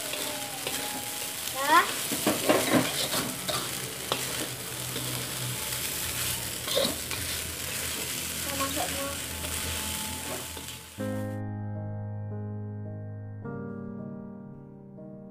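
Shredded chicken fried rice (nasi goreng ayam suwir) sizzles steadily in a pan with scraping stirs while a voice talks briefly, then the frying gives way to music near the end.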